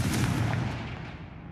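A Confringo fire spell from the Hogwarts Legacy video game blasts once as a loud, booming burst with a broad roar that fades steadily over about a second and a half, with no talk.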